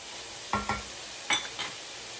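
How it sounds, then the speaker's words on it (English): A spoon stirring softening vegetables in a pot for chicken and dumplings, heard as two short pairs of scraping clinks over a faint, quiet sizzle. "Give these a stir every once in a while, every minute or so"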